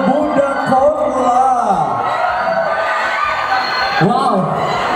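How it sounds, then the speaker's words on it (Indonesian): A party audience cheers and applauds for Bunda Corla, a loud crowd of whoops, shouts and clapping close by, mixed with voices talking over the noise. "Tepuk tangan dong untuk Bunda Kola."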